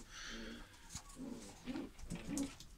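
Young pigeons of a muffless (paçasız) Istanbul tumbler breed murmur soft, low coos inside a coop, several short rounded calls spaced across a few seconds over faint background hiss.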